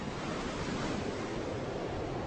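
Steady wind blows across a sandy Moroccan beach held in place by dune plants, a dense, even roar with no voices and no distinct gusts.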